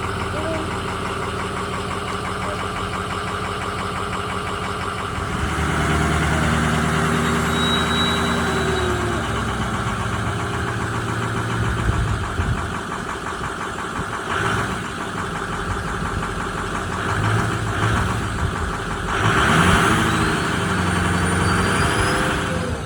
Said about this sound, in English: because apparently that takes some cranking, and then it'll start and it'll be great.